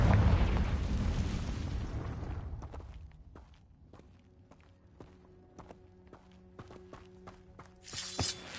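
In the Hogwarts Legacy video game, a Confringo spell blast booms loudly for the first two seconds and decays into quieter surroundings with light repeated taps like footsteps.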